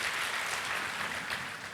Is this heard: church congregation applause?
yes